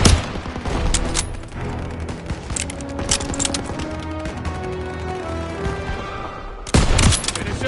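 Battle gunfire in the Call of Duty: WWII game, dense overlapping rifle and machine-gun bursts rattling continuously with sharp loud cracks at the start and end.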